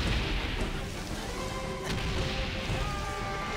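Explosions and battlefield blasts from the First World War video game Valiant Hearts: The Great War form a dense, continuous roar of crashes and booms with no voices.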